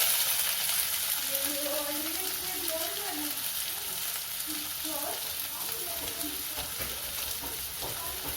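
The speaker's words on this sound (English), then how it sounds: "So now that the oil has heated up, we'll put the onion." Onions frying in heated oil in a pan, a steady loud sizzle throughout with a faint voice talking underneath.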